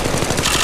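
Rapid automatic gunfire in the mobile shooter Apex Legends Mobile, a dense burst of fast repeating shots, loud and close, lasting under a second.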